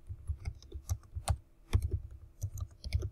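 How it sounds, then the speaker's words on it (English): Keys clatter on a computer keyboard in short irregular bursts of clicks, close and fairly quiet, with no talking over them. "going to try to type this since my smartboard is not working very well."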